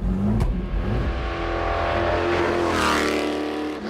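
A Ford GT40 with a 4.7 litre engine accelerates hard, its loud, close engine note climbing through the revs with a brief shift-like break, no talking.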